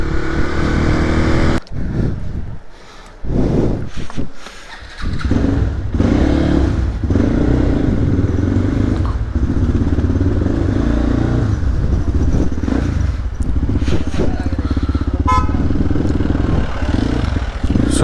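A motorcycle with a clutch plate that needs replacing runs loudly during a ride. The steady engine roar dips briefly early on, with rattles and wind noise mixed in throughout.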